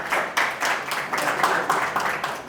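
An open-mic audience claps in irregular bursts, a small crowd of hands heard close and fairly loud for a couple of seconds with no talking over it.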